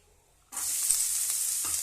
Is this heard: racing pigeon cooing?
no